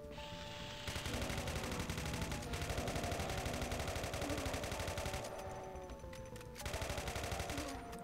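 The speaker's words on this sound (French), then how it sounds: "Elle a quand même plus de gueule, cette mitrailleuse" Sustained machine gun fire in the video game Golden Souls 2, a dense rapid rattle of shots running almost the whole time with short breaks, loud and continuous over game music, with no talk.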